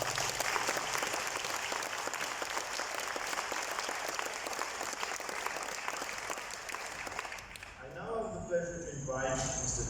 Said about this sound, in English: So a big applause to our staff.